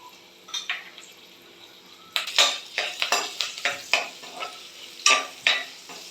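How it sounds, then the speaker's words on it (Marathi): Chillies and ginger pieces sizzle in a hot oil tempering while a spoon scrapes and stirs against the pan. The stirring comes as a quick series of close, sharp scraping strokes over a soft frying hiss. "फोडणी छान परतून घ्यायची आहे"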